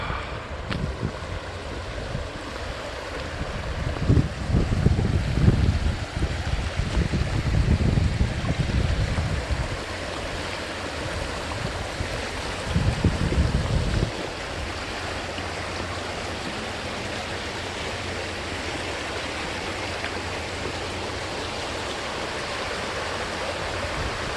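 Steady rushing stream water flows continuously, loud and close, with a few heavier surges partway through and no voices.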